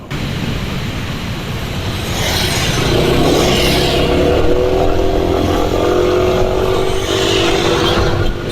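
A motorcycle engine runs close by and revs up, its tone rising into a steady, loud drone.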